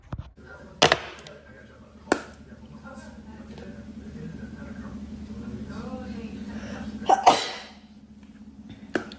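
A person sneezes sharply, once early and again with a louder double burst near the end, close to the microphone, with a low steady hum and quiet murmuring in between.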